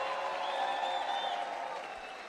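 A church congregation claps and makes noise in praise during a service, a brief burst of dense applause with some voices, fairly faint and fading toward the end.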